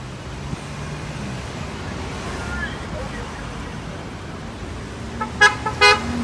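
Busy street traffic rumbles steadily by a roadside one-man protest, with a couple of short car horn toots near the end and voices talking faintly in the background.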